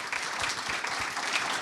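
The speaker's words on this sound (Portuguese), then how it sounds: "Uma salva de palmas para o Sérgio." An audience at a meeting with Sérgio Leitte applauds him, an even, continuous patter of many clapping hands heard briefly with no voices over it.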